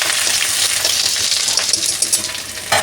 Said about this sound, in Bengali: এটা আদাটা ভাজা হোক।